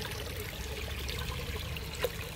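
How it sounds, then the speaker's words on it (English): Water poured carefully into a jar, filling it about halfway, a soft continuous trickle at low level with a small splash or clink near the end. "I'm going to carefully fill it up about halfway with some water."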